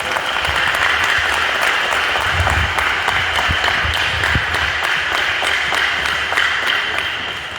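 A large audience at a Guru Purnima gathering in an ashram applauds to welcome performers, a thick, sustained round of clapping that stays loud and steady from start to finish.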